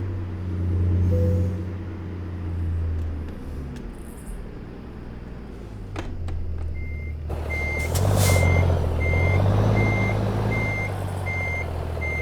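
Simulated truck engine in American Truck Simulator drones steadily at a low pitch, with a clear repeating reversing beep joining partway through and continuing to the end.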